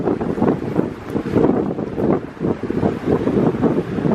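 Strong wind buffets the microphone outdoors near an old wood fence and a railroad bridge, a steady broadband roar with gusting surges throughout, loud and close, with no talking.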